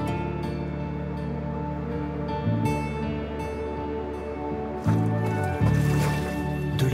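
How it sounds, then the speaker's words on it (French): Boiling mud bubbling at a volcanic geothermal site near fumaroles and an acid crater, a steady dense churning rumble with a few louder gloops surging partway through; no voices. "De la boue bouillonnante"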